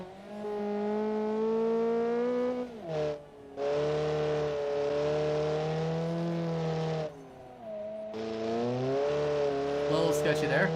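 A hot hatch car in a racing game revs hard, its engine and exhaust note rising and falling through the gears, with a steady loud drone and brief drops between shifts.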